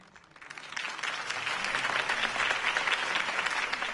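Crowd applause after Harvey Dent's campaign speech in the Batman Telltale video game, swelling from quiet to a broad, steady roar of many hands clapping and holding for several seconds.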